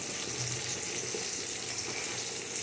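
Onions frying in a pan for birista, a soft continuous sizzle at low volume with no voices.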